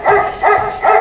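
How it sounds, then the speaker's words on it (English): A dog's bark plays from a Google Assistant voice-kit speaker: three loud, evenly spaced barks in quick succession, with no talking. "This is a dog."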